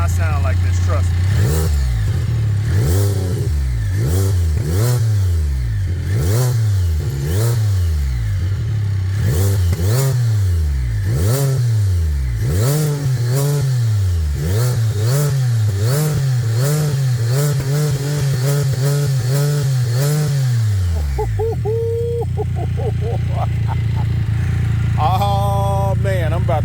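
A Can-Am Spyder F3-S with a loud aftermarket Akrapovic exhaust revs repeatedly in sharp rising and falling bursts, close and aggressive, then settles into a rough idle.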